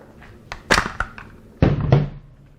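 A magazine goes into the mag well of a Molot VEPR-12 12 gauge AK-style shotgun. Close, sharp metallic clacks and thunks sound in two quick clusters, as if it is seated firmly twice.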